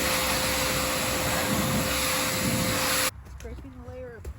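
A pressure washer blasting a flower bed, a loud continuous hissing roar of spray that stops abruptly after about three seconds, followed by people talking.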